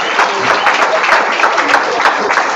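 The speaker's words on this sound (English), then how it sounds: "Clap for us, clap for us." Clapping from a group at a real estate course session, moderately loud and continuous with sharp individual claps popping out in an uneven rhythm, with some voices mixed in.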